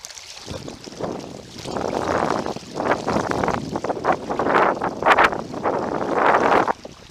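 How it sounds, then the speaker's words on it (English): Strong wind gusting by a trout river, loud rushing buffets hitting the microphone in uneven surges that rise and fall for several seconds. "Now the wind is starting to blow downstream. It's very strong"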